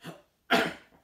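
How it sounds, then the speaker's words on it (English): A single short, sharp cough bursts out close by after a small throat sound, isolated and brief in a quiet room. "No, I just wanted to cough, that was it."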